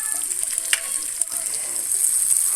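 Steady, dense sizzling of onions frying in butter, olive oil and vegetable oil, a continuous crackling hiss with a few small pops, close by and without talk.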